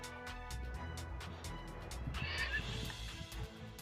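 A horse whinnies in the Pathos Nethack game, a clear mid-length neigh over a steady background of game music and repeated ticking clicks, with no talk.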